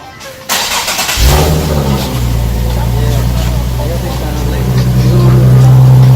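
A car engine fitted with an AAM resonated test pipe cranks and fires up from cold, settling into a loud, steady low idle close by, with people talking faintly over it.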